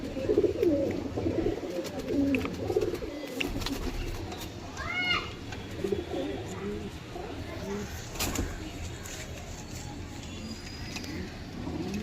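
Pigeons at a pigeon sale in Howrah coo and call through the scene, low murmuring coos layered with some chirps, while people talk over them and a few knocks and bumps sound nearby.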